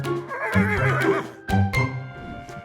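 A horse gives a loud, close neigh with a wavering, quavering whinny, then a second, shorter whinny that fades into snorting breath.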